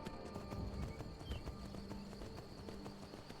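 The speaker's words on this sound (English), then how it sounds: "Oh, is this your horse?" Steady clip-clop of horse hooves at a walking pace in Skyrim, moderately distant, layered over a low ambient hum and faint tones.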